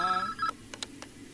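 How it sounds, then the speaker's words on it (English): A phone ringing in a Minecraft animation: a sustained electronic ring tone up front, then a few short sharp beeps, near and moderately loud, with no talking. "he begins to hear a phone ring"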